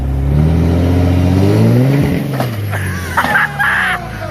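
A Jeep fitted with a 12v Cummins diesel revs hard and close for a boosted launch, its loud rising drone dipping and surging as the launch begins, with shouting voices over it.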